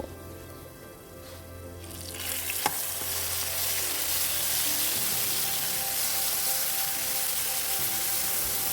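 Chili is stir-fried in oil, a soft quiet start giving way to a loud, steady, hissing sizzle that fills the rest of the clip.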